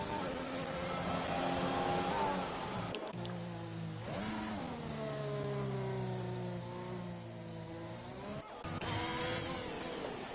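Racing car engines revving on a hot lap in the F1 2021 video game at Singapore, a high, whining engine note that climbs and drops with gear changes and brief cuts, steady and close, with no talking.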